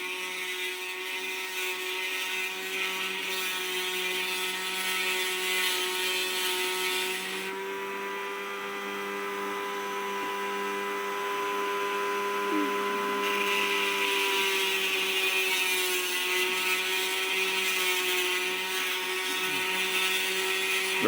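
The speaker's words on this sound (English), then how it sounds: "Just letting the drill bit do its work." A drill bit bores into Tasmanian jade for a pendant, worked with no pressure, giving a steady high whining grind with a constant tone that dips quieter in the middle stretch before returning, alone with no speech.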